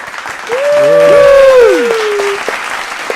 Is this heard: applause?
yes